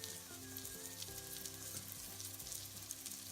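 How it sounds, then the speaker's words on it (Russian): Syrniki (cottage cheese pancakes) fry in a well-heated pan, making a soft, steady crackling sizzle that stays quiet and even throughout with no voices. "Вторая половина сырничков жарится быстрее, поэтому будьте внимательны, так как сковородка уже хорошо разогретая."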